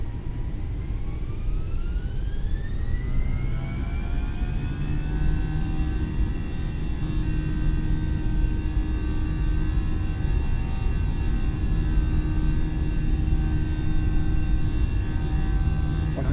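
Jet engines of an Airbus A320 spool up into a steady, loud roar as the airliner accelerates down the runway on its takeoff roll in Microsoft Flight Simulator, with a rising whine that levels off into a constant drone.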